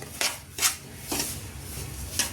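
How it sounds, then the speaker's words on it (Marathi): Semolina is dry-roasted in a pan for sheera, heard as four distinct scrapes of a spoon or spatula against the pan at uneven intervals, close and clear over a low background. "हा रवा आता थोडासा तपकिरी रंग होईपर्यंत आपण भाजून घेत आहोत."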